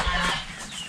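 Chickens cluck nearby on a small farm during chores, a brief burst of throaty fowl calls that fades within a second, with no talk over it.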